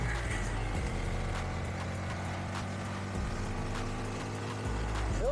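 A 2025 Honda Grom SP motorcycle engine hums steadily at low volume while cruising in fifth gear, with a constant low drone and wind rush and no clear talking.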